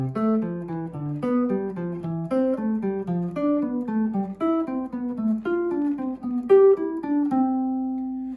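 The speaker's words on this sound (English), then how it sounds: "transpose through the scale starting from C, the parent scale would sound like this" A melodic cell figure run up through the parent scale starting from C on a bebop scale, a steady stream of pitched notes climbing in repeated short patterns before settling on a held final note.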